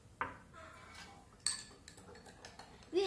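A spoon stirs salt into water in a glass at a school science demonstration, giving faint, sparse clinks and ticks against the glass with quiet room background.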